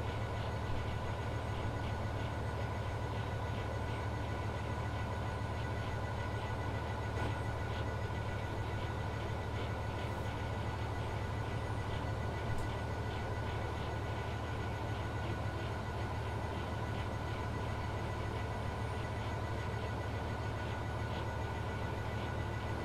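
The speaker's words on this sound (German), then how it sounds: "So werden also die Gleise gereinigt." A rail-cleaning train in Train Sim World 3 on the Southeastern Highspeed line rolls along. It makes a long, steady engine drone and rail rumble, with faint rhythmic clicks throughout and no talk.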